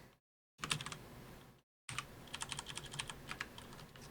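Computer keyboard typing, with bursts of quick, close clicks in a rapid irregular rhythm, broken by two short silent gaps.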